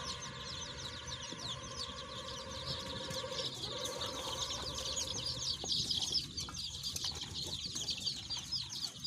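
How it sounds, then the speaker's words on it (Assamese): Chickens on a small home farm cluck and chirp at a moderate distance, with soft scattered calls and some wing flutter over a steady background hum, no talking heard. "এবাৰ আমি আহিছো ফাৰ্মখনৰ ভিতৰত এতে আছে মুৰ্গী"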